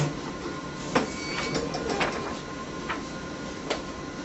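A perfect binder with a cover creaser running, pairing a steady mechanical whir with a few soft clunks and swishes at intervals, close and continuous with no talking.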